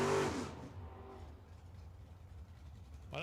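Chevy II drag car at Tucson Dragway with mufflers, a loud engine burst at the start that fades into a low rumble, then rising again at the very end.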